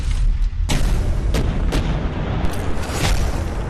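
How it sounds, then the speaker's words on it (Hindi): Crude bombs going off in West Bengal at election time: a series of sharp, loud booms over a continuous heavy rumble, with no voices. "फटेगा ना, बहुत धमाका आवाज होगा और बहुत तेज होगा।"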